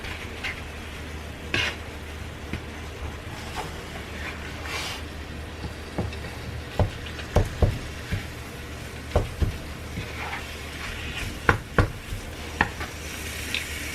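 Food being stirred and mixed in a pan on a stovetop, with intermittent scraping clicks of a utensil over a low sizzling background, growing more frequent toward the end.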